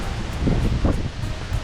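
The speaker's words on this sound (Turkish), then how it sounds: "Şu anda bayağı rüzgar var." Gusty wind buffets the microphone outdoors, a continuous low roar with rustling surges rising and falling.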